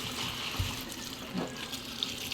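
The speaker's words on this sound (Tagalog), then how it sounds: "nilabas ko na po yung mustasa at pichay at ibabatad ko po sa tubig" Water splashes and runs steadily as fresh mustard greens and pechay are dipped into a basin for washing, with a couple of brief sloshes standing out nearby.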